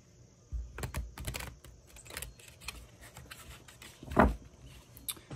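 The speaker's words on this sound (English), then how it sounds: "Some shuffling, of course." Tarot cards being shuffled by hand during a weekly reading, giving a quiet run of soft irregular flicks and riffles with a sharper snap near the end, close and alone without talk.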